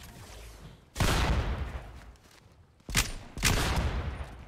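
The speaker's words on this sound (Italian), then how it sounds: "Dei colpi." Gunfire in a video game, two separate bursts of rapid shots, the first loud and lingering, the second a pair of quick cracks, heard close with no talk.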